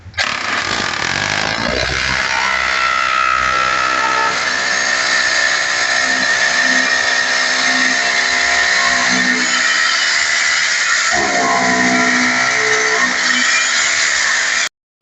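A power drill with a 12 mm bit bores into a wall for mounting a wash basin, whining loud and continuous with brief dips in pitch as it bites into the masonry.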